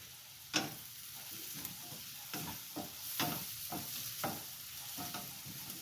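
Finely chopped, freshly washed potato pieces drop into a hot pan and sizzle, with a steady frying hiss, sharp crackling pops and stirring clicks, and no talking.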